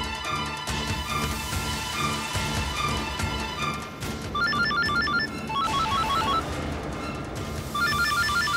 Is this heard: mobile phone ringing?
yes